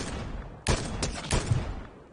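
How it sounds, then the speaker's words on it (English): Several sharp gunshots from a Fortnite firefight, three distinct bursts within about a second, moderately loud over a steady game background hum. "Someone's shooting."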